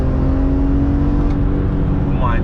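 A BMW E46 M3 with its naturally aspirated engine revs hard and loud up close, a steady snarling drone with a brief rising sweep at the end, while someone talks over it.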